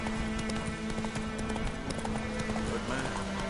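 Hooves of a galloping horse in The Witcher game, a fast steady clip-clop rhythm running throughout at close, moderate loudness over a humming game background.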